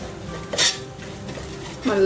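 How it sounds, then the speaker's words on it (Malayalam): A spoon stirs turmeric and coriander powder into a masala in a pan for masala rice, making two quick metallic clinks and a soft scrape against the pan, close and alone. "നല്ലപോലെ ഒന്ന് മിക്സ് ചെയ്ത് കൊടുക്കാം"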